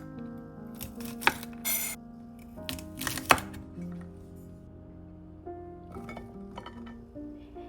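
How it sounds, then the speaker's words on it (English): A knife trims and halves green beans for a garlic chicken stir fry, giving several sharp clicks and taps on a board with clinks of kitchenware, heard close and alone with no talking. "Trim the ends off the green beans and cut them in half."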